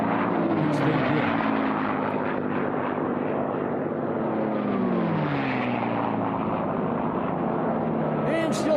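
A North American race airplane fitted with a Rolls-Royce engine roars past during an Unlimited Bronze air race, its propeller drone loud and continuous with a shifting pitch as it passes, while a commentator talks over it.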